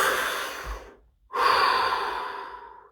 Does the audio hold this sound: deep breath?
yes